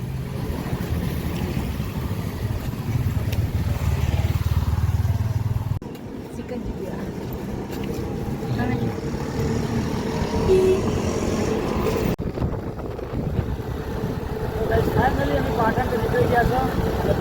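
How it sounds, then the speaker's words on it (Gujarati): Steady, dusty road traffic rumble with cars and motorbikes passing close by, engines droning continuously and a brief lull midway before the noise builds again. "તમે જુઓ આગળ ગાડી આવે છે, બાઇક જાય છે"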